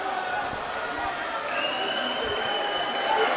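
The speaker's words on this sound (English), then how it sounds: "you can still hear the crowd buzzing from that missed dunk" A basketball arena crowd at a FIBA AfroBasket game buzzes in a dense, continuous roar, with a faint whistle-like tone running through it and a commentator's voice nearby.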